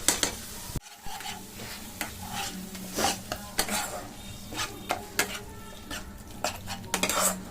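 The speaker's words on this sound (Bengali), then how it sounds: "এবার এটাকে ভালো করে ভাজা করব, মশলাটা ভালো করে ভাজুক" Two tablespoons of ginger garlic paste fry in a pan while a spoon repeatedly scrapes and clinks against the metal, giving irregular stirring knocks over a soft, constant sizzle.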